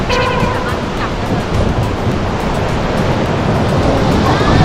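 Sea waves wash steadily around someone wading through the shallow sea at Koh Samet, Thailand, a loud continuous surf with wind buffeting the microphone throughout.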